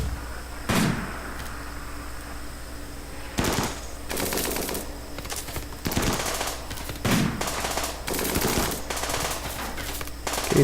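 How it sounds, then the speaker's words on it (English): Gunfire in the RimWorld video game, several sharp bursts of shots spaced irregularly, loud and close, with no speech. "They'll probably take some pot shots at him as he goes."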